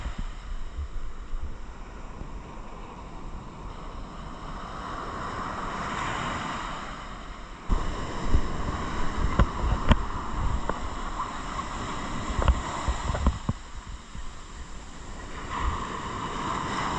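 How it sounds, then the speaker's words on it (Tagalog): Fairly strong sea waves break and wash onto a beach at Botolan, Zambales, a steady surf roar mixed with gusty wind buffeting the microphone, surges swelling and fading over the span. "So medyo malakas lang ang alon ngayon."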